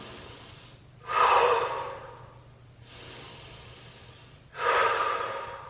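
During a Pilates pelvic curl hold, slow, deep breaths come close and clear, with two long airy inhale-exhale cycles roughly every three to four seconds over faint steady background hum and no speech.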